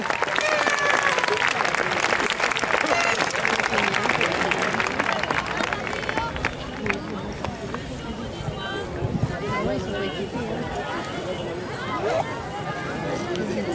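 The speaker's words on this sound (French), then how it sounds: "Un torrent d'applaudissements!" An outdoor crowd at the Coupe Icare paragliding show bursts into loud, dense applause that runs for several seconds, then thins into scattered clapping under crowd babble and wind.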